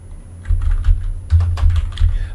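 Fast keystrokes on a computer keyboard while searching in a web browser, a close, steady run of clicks in several bursts with short pauses.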